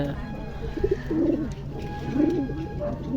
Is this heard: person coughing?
no